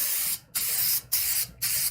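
Master's Quick Shine spray hisses from a pump bottle in four short, close bursts separated by brief pauses, with no talking over the sprays.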